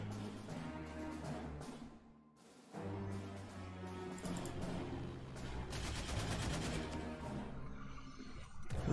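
Aircraft strafing runs in the Panzer Corps 2 strategy game during an assault on Kiev: dense, loud, sustained gunfire bursts with a brief lull near the middle before the firing resumes, with no talking.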